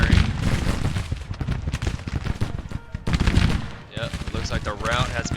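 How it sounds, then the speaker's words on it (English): Cannon fire in a Civil War–era battle in the strategy game Grand Tactician, a dense, continuous barrage of overlapping booms and crackling shots, loud and sustained throughout, with a brief dip before the volley resumes. "There you hear the cannons firing"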